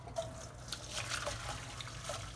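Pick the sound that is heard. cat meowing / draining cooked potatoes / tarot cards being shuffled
draining cooked potatoes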